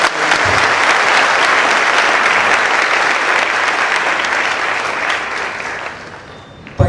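An audience at a UPSC exam question-and-answer session breaks into loud, sustained applause, a thick, even roar of clapping that eases off slightly near the end.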